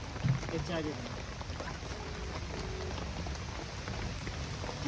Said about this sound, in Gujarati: ઠંડી વરસાદ ચાલુ છે